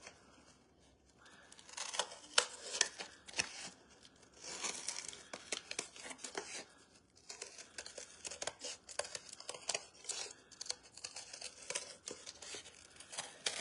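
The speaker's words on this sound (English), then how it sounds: "But the scissors are good for this. So let's cut around this." Scissors cut through cardboard with rapid crisp snips and rasping crunches, quiet and close, in short busy bursts and brief pauses, with no voices heard.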